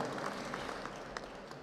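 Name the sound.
audience applause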